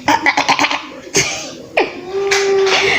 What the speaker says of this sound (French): Attendez que je me racle la gorge.